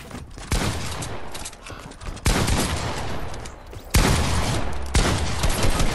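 Shotgun blasts in a video game, several loud, broad bursts of firing that start abruptly and sustain with rumbling tails, close and dominant with no voices.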